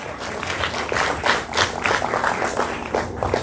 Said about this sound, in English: And I paused for a round of applause.